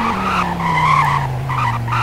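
A 2008 Dodge Viper in Roblox Greenville brakes hard, its tires letting out a loud continuous squealing skid over a dropping engine whine, close and lasting about two seconds.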